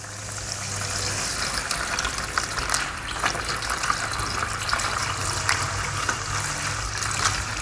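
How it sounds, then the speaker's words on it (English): Distilled water runs steadily into a bucket fitted with a grit guard, a continuous close splashing and trickling fill with no voices. "first thing first is we gotta fill this bucket up"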